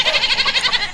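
A goat gives a close, loud bleat, a quavering nasal cry that wavers in rapid regular pulses for just under a second.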